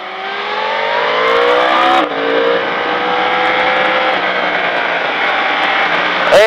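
A motorcycle accelerates hard on the Circuit de Bresse race track, its loud, close engine note climbing steadily in pitch, briefly dipping at a gear change, then pulling on in a sustained roar.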